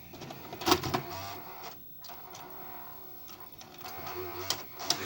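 Mechanical whirring and clicking of a 1994 Sanyo VHR-5420 VCR tape transport, with sharp clunks and motor hum, steady and close, no voices.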